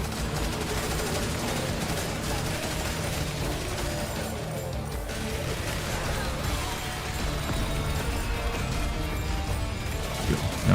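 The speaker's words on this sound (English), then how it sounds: "Bombing strike." Bombing strike explosions in the zombie survival game Yet Another Zombie Survivors produce a dense, continuous barrage of rapid blasts and crackling impacts, held at moderate level for the whole stretch with no voice heard.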